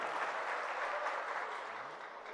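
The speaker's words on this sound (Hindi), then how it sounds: "एक बार तालियां बजा के इस्तकबाल कीजिए" An audience claps at a mushaira poetry gathering in a marriage hall, with steady, dense applause that holds for a couple of seconds and then eases slightly. The clapping is fairly faint and distant.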